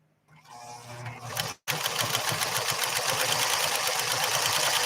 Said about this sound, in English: let's see how our mechanical machine is doing now. Let's sew this other pattern.